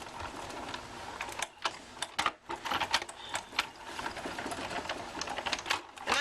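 Die cutting machine pressing a die through two stacked pieces of cardstock at once, giving a steady close mechanical whirring and grinding with repeated rhythmic clicks and ratcheting bursts, alone without talk.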